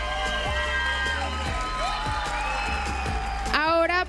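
Crowd applause and cheering at the Miss International Grand Latina 2021 pageant, a continuous wash of audience noise beneath music, with a louder burst of whoops near the end.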